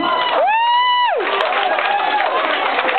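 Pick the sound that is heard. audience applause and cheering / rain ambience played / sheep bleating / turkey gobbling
audience applause and cheering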